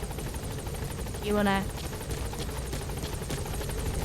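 The Pequod helicopter flying in Metal Gear Solid V, a steady rotor buzz under constant game noise, with a player talking over it.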